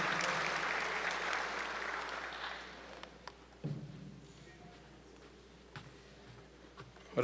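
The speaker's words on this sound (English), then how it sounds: "Please give him a round of applause as he makes his way." A ceremony audience claps steadily for several seconds, fairly distant and moderately loud, then thins out into scattered claps and a quiet room with a few knocks and shuffles.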